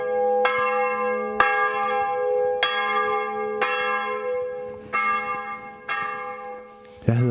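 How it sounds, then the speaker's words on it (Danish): Church bells ring in the tower of Christianskirken, the Danish church in Berlin: six loud, evenly spaced strikes with long ringing overtones that overlap, then a brief thump at the end. "klokkerne, som du kan høre, ringer i tårnet her ved den danske kirke"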